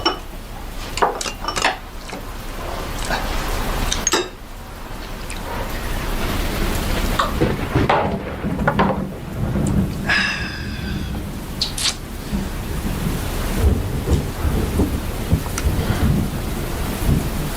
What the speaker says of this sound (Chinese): 这雨越下越大了。